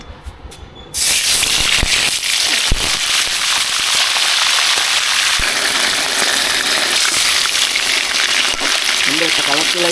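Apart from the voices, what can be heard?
chicken pieces frying in oil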